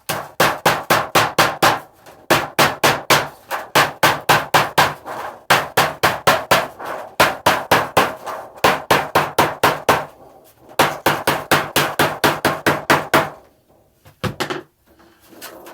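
Rapid, loud metallic hammer blows joining aluminium sheets for a beehive roof, in long rhythmic bursts, pausing briefly between runs, with a few scattered strikes at the end; no talking.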